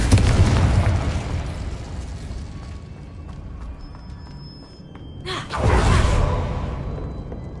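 Explosive blast from the Confringo spell in a Harry Potter video game: a loud booming burst that fades into a rumbling tail, then a sharp whoosh and a second forceful blast near the end.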